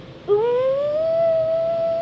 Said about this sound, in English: Usually And I wear ear table protection. saws would sound like this